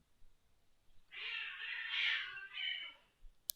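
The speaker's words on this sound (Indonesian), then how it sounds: "Ada kucing." A single drawn-out cat meow, fairly close and clear, rising and falling over about two seconds in a quiet room with no talking.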